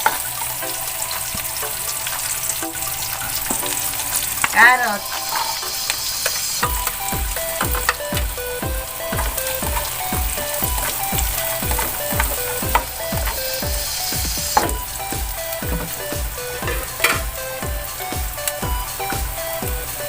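Onion and carrots sizzle and sauté in a hot pan, a continuous frying hiss broken by a steady run of rhythmic scraping and stirring strokes from a utensil, close and fairly loud with no talk.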